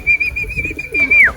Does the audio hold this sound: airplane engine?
no